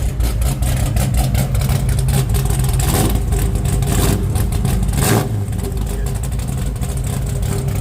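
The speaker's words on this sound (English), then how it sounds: "Maybe can you give it a little bit of throttle," 1968 Dodge Charger with an aluminum exhaust, running at its first fire-up, a loud, rough, throbbing engine note close by, with brief throttle blips swelling the roar before it settles back.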